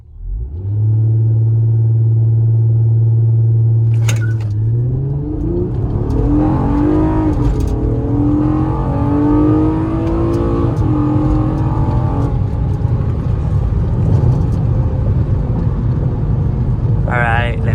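A ninth-generation Honda Accord coupe with a Ktuner tune idles, then accelerates hard in paddle-shift mode, its engine note climbing through several rising revs and shifts. It is loud and close, with voices talking inside the car.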